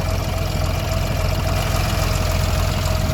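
A 1958 Mack B-21 fire truck engine idles roughly after sitting for 30 years, a loud, steady low-pitched chugging with an uneven pulse, close and continuous with no voices.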